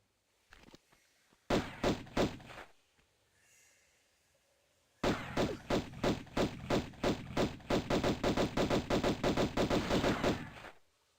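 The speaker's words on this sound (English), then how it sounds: "I'm just gonna use these pistols again." Pistol fire in the video game Tomb Raider 1 HD Remaster: a quick burst of sharp shots, a short pause, then a long run of rapid, evenly spaced shots, loud and close.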